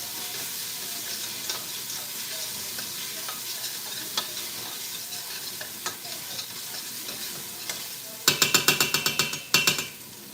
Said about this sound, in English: we're gonna do some tomato paste, a heaping tablespoon. In that goes. And give it a stir.